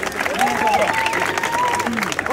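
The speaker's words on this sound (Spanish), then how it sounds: "¡Dale un aplauso!" Crowd applause at a freestyle rap battle, dense clapping and cheering under a loud host voice shouting over it.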